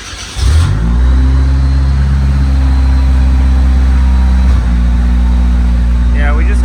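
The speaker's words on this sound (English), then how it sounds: "You see how it starts like it just like misfiring." A 1932 Ford Roadster with a 2.3-liter turbo engine starts and runs with a misfire. A loud, close, steady low drone follows a brief cranking burst, with an uneven stutter near the end.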